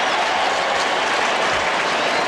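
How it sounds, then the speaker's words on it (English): Steady applause from Saints players and the crowd at a 1995 NFL game between Miami and New Orleans, a dense continuous clapping roar throughout without breaks. "And the call is being applauded by Saints players."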